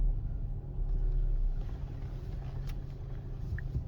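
A car reverses slowly into a parking space during a driving exam in Germany, its engine a low, steady rumble heard from inside, with no talking.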